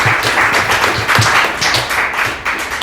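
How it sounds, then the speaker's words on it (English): Dense applause from an audience for the panelists at a youth leadership workshop, close and loud, continuous clapping with no voices over it. "Come on guys, another round of applause for our"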